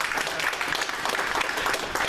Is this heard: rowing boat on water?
no